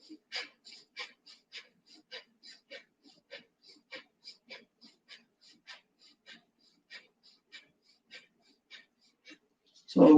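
Kapalabhati or Bastrika yoga breathing: a rapid, even series of about thirty short, sharp nasal exhalations, close and clear, ending in a louder breath.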